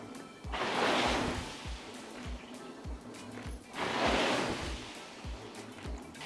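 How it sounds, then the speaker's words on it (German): Water sloshing and splashing in the tank of a water rowing machine, two long surging swooshes with a rhythmic low thumping between them, close by and with no talking. "Man hat auch ein Plätschern, wie auf dem Wasser."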